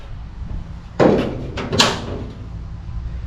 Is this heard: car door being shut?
yes